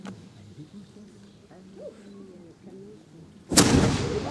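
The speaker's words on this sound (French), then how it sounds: "Faites procéder au tir, je vous prie." A single loud cannon blast booms abruptly near the end, after quiet murmuring and faint hooting tones, leaving a rumbling roar.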